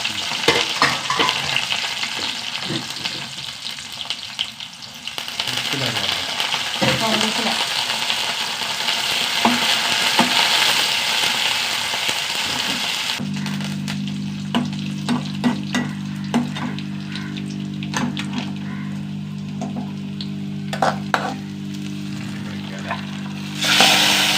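Mustard seeds, onion and green chilies frying in heated coconut oil in a pan, a loud, crackling sizzle with scraping stirs, then a steadier hiss with a low constant hum and scattered pops, close up and continuous.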